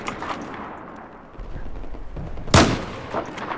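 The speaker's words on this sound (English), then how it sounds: "Why can't I snipe? I'm just missing all my shots." A sniper rifle shot in the Battlefield 4 video game, one sharp loud crack near the end rising over a low ambient game bed, with faint scattered noises before it.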